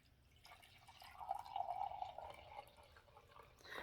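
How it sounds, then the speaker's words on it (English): Hot coffee pours from a pot into a cup in a steady, fairly quiet liquid stream lasting a couple of seconds, with no talking. "So I'm gonna pour myself some coffee."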